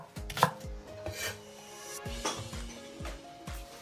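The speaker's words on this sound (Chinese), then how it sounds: "大葱切断" Green onion cut into lengths with a kitchen knife on a cutting board, a series of close, distinct thuds in an uneven rhythm, with a brief clink of dishes and no speech.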